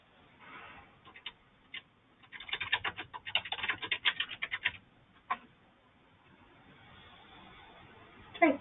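Clusters of light clicking keystrokes on a computer keyboard, a quick flurry of typing in the middle with scattered single taps before and after, quiet and close.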